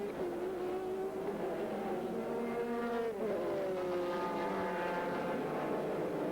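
A Corvette race car in the American Le Mans Series at Sears Point roars past, its loud engine note sweeping down in pitch as it goes by, with other racing engine noise behind it and no talk.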